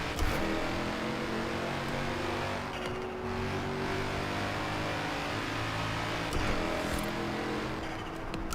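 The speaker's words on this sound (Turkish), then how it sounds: "İstediğim kadar bağırttırabilirim artık arabayı." A Mercedes C63 AMG Coupe Black Series in Forza Horizon 3, its engine revving loud and steady, holding high revs with rising and falling swells over the whole stretch, no talking.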